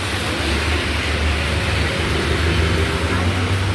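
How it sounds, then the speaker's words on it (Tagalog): Road traffic on a rainy day, a steady broad rumble of passing vehicles with low engine drone, moderately loud and continuous throughout. "Yan, traffic oh."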